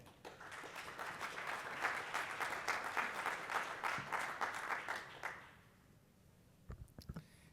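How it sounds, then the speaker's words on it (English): An audience gives a warm round of applause to welcome a speaker at a ground-source heat pump commissioning and operator training event, dense clapping that holds for about five seconds, then stops abruptly, leaving a quiet room with a few faint knocks. "will you help me welcome with a warm applause Zach Fink."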